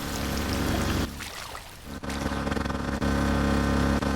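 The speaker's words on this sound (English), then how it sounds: "water is coming out of it" Water gushing steadily from a pipe at a flooded farm in the game Drain Sim, a loud continuous rushing pour with a brief dip midway, then resuming strongly.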